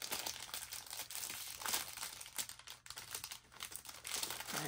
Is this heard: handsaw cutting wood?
no